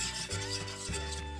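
Glutinous rice paste is stirred by hand in a pot to dissolve it before the heat goes on, a steady rubbing, scraping rasp with short strokes, close and continuous, with no talking.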